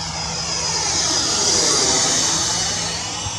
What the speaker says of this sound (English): Do a flyby, so come into a left hand circuit.